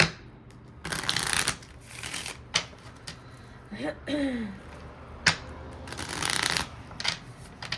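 Oracle cards shuffled by hand during a love-themed tarot reading, giving repeated bursts of crisp riffling and flicking that stop and start across the clip, close and fairly quiet, with a short voiced sound partway through.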